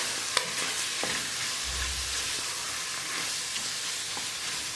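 Fish soup ingredients with salt, ginger and spices sautéing in a pan, a steady close sizzle with light stirring and utensil clicks throughout, no talking.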